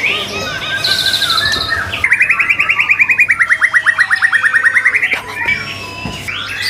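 A caged white-rumped shama (murai batu), newly arrived stock at a Jakarta bird seller, sings loud and close. Its song runs from varied whistles into a fast, rhythmic trill of repeated notes, then some scattered chirps.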